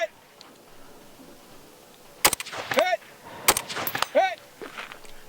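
Two sharp rifle shots at targets set at roughly 100 and 200 on an outdoor shooting stage, each a loud crack with a short tail, about a second apart, with quieter background noise and bird-like calls between.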